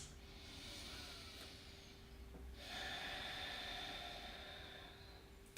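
Slow deep breathing during a yoga hip-stretch pose, two long airy breaths in and out heard close and soft with a brief pause between, no talking.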